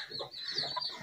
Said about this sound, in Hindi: मेरा टाइगर मुर्गा और टाइगर मादी